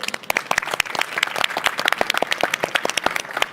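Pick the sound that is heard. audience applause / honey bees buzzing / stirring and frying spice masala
audience applause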